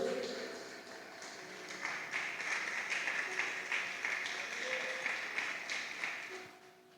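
A church congregation applauds with dense, sustained clapping that builds and holds, then fades out near the end, with voices mixed in beneath it.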